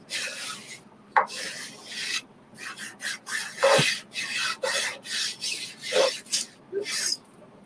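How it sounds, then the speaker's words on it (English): A silk screen transfer is burnished onto a wooden garden flag with repeated rasping strokes, close and irregular, with short pauses between rubs. "I'm just going to burnish around where all of the silk screen is."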